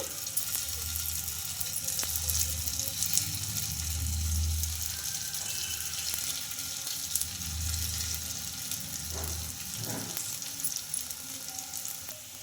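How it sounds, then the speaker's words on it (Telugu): Semolina (rava) sweets frying in hot oil give a steady, soft sizzle with faint bubbling and occasional stirring clinks, continuous and close throughout without speech. "ఇంకా మిగతా వాటిని కూడా ఇలానే ఫ్రై చేసుకోవాలి"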